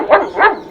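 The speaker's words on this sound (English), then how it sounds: "See the dog over there?" A dog in a park on a rainy day lets out two quick, sharp barks close by, with a short pause between them.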